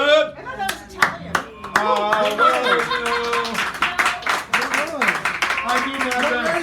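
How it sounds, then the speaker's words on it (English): Audience clapping at a poetry reading at Sacred Grounds Cafe in San Francisco, a burst of close, lively hand claps with a few whoops and laughs, overlapping with talk from the stage. "Give him a round of applause."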